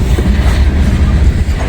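Trains rolling through a railroad work zone, a steady low rumble with faint rhythmic wheel clatter under strong wind noise, continuous and fairly loud throughout.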